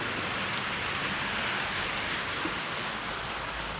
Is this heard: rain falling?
yes